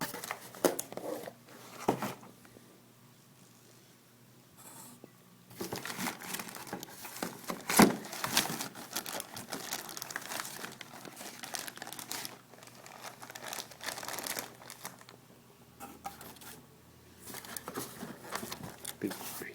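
Plastic bag crinkling and rustling in bursts while an Icom IC-7000 radio is unboxed, close and fairly loud, with a sharp crunch near the middle and quieter gaps between handling.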